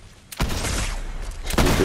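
Explosive rifle blasts in Fortnite: two heavy, booming detonations about a second apart, each a loud broadband burst with a rumbling tail and no talking.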